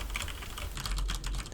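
Rapid clicking of typing on a computer keyboard, captured by a budget USB microphone, with a steady patter of keystrokes that grows busier toward the end, fairly faint against room noise and with no voices.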